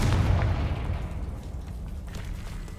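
Confringo blasting spell in the Hogwarts Legacy video game, a deep booming explosion that hits hard at the start, then rumbles and fades over a few seconds.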